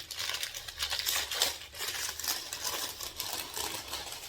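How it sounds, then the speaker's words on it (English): Crinkly packaging rustles and crackles continuously as a purchased tray is unwrapped close by, a busy, dense crumpling texture with no talk over it. "Let me unwrap it for you."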